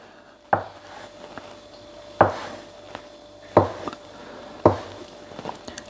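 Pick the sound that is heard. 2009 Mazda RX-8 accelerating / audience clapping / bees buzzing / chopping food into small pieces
chopping food into small pieces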